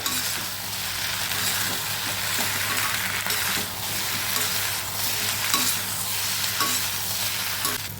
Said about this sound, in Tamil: இப்போ இதில் நம்ம ஃப்ரை பண்ணி வச்சுருக்கிற இந்த முட்டை நல்லா மிக்ஸ் பண்ணிக்கிங்க